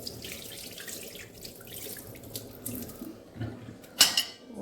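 Hot water is poured off boiled potatoes from a pressure cooker beside a kitchen tap, giving a soft, steady splashing trickle close by, ending in a brief sharper splash near the end.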